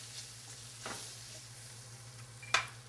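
Flour-dusted aromatics frying in oil over lowered heat, a steady soft sizzle with a faint stirring scrape and a brief sharp clink near the end, no talk.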